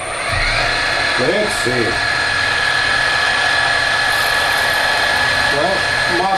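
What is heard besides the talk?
electric drill running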